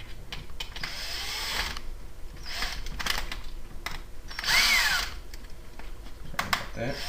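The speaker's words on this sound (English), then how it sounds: "I am flattening the tips of the screws so they don't stab in there." A small power tool flattens the tips of screws on a d-axial build, giving short intermittent whirring and grinding bursts at moderate volume, with one louder burst, amid soft handling noises and a voice speaking briefly.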